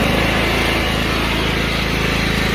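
A John Deere L108 lawn tractor engine runs at full throttle, a loud, steady, buzzing drone with an even rapid pulse, close and uninterrupted.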